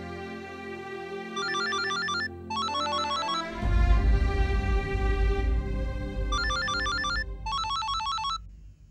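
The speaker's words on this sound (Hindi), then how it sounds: "प्लीज हमारे फोन उठाइए ना" A mobile phone rings loudly with a repeating electronic ringtone melody in bursts, while a swelling dramatic music score enters midway underneath.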